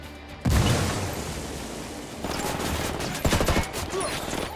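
A grenade detonates in the video game Ghost Recon Wildlands with a loud, sudden boom, followed by a dense, continuous roar of gunfire and rumbling battle noise that stays strong to the end.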